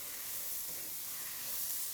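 Beef stroganoff sautéing in a pan gives a steady, soft broadband sizzle and hiss, fairly quiet and continuous with no voices.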